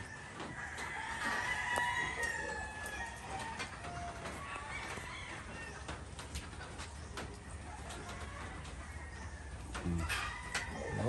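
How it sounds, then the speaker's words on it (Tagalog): A Red Kelso gamefowl rooster crows repeatedly at moderate distance, with other fowl clucking and crowing around it on a poultry farm, over steady background noise and no talk. "So ito yung red kelso natin, Sir Rod."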